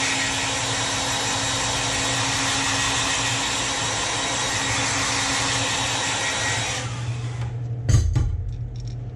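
A heat gun blows steadily at close range while heat-setting paint on a Duo Realis 120-style shad lure blank, a loud even whooshing roar lasting about seven seconds before cutting off, followed by a brief handling clunk.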